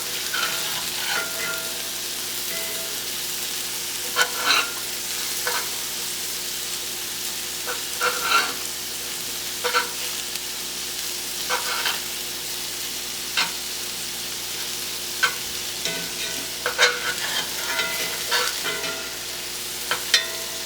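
Meatballs fry steadily in a pan, a continuous close sizzle with scattered sharper pops and occasional scraping stirs, and no voices.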